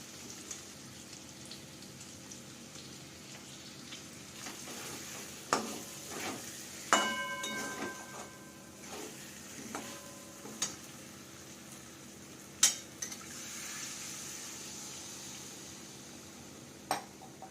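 Egg malai curry gravy with sugar, salt and water simmers in a pan with a soft, continuous sizzle, broken by scattered clinks and taps of a spoon stirring, fairly quiet and without talk.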